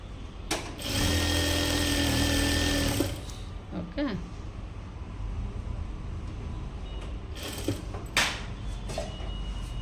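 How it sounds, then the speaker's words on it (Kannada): A sewing machine runs in a steady loud burst for a couple of seconds while stitching a lining blouse, then stops, followed by quieter handling noises and brief bumps. "ಹಿಂಗೆ ಸಪ್ರೇಟಾಗಿ ಹಾಕ್ಕೊಂಡು ಸ್ಟಿಚ್ನ ಮಾಡ್ಕೊಳ್ಳೋಣ"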